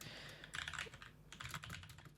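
Quick bursts of keystrokes on a computer keyboard, two short runs of clicking separated by a brief pause, close and fairly quiet.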